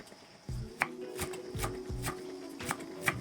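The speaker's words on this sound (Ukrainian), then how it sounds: "Тим часом нарізаємо пучок зелені. У мене це кріп і петрушка." A knife chops a bunch of dill and parsley on a board, giving a series of close, crisp, irregular knocks with a few sharper clicks. No one speaks.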